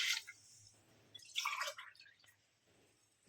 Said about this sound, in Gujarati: આપણે 2 ગ્લાસ પાણી નાખશું.